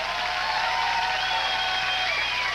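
A concert audience claps and cheers in a steady, dense wash of applause that stays even and fairly loud throughout, with no break.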